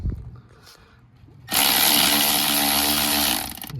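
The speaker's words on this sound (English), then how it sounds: "I broke that nut free with my ratchet, angled head" Power ratchet with an angled head spinning a nut on a Cummins X15 starter, a loud, close, steady whirring burst lasting about two seconds that cuts in sharply after quieter handling noise.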